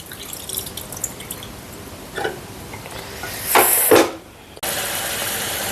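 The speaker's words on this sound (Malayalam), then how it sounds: "നമ്മുടെ തേങ്ങ അരച്ച ജാറിനകത്തോട്ട് തിളച്ച വെള്ളം ഒഴിച്ച് കൊടുക്കാം" Boiling water is poured into a mixer-grinder jar holding ground coconut for an Onam onion theeyal curry. A short splashing pour rises out of quiet kitchen background noise, then cuts off.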